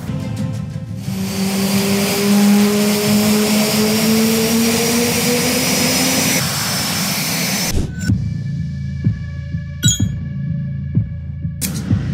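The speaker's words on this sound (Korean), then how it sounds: "훈련 조종사들이 이착륙 훈련을 지금 계속 이륙하고 착륙하고 이륙하고 착륙하고" Jet aircraft at an air force flight training base, taking off and landing during pilot circuit training: a loud, sustained rising roar that cuts out, followed by quieter distant rumble and sharp clicks, with no talking.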